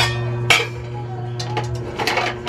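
Plates clinking as they are handled, a sharp ceramic knock followed by several lighter clinks, close by over a low steady hum.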